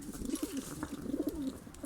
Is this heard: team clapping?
no